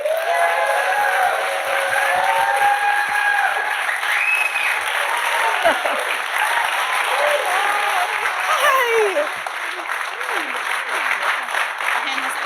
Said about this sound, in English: I'm not even paying you guys to clap like that.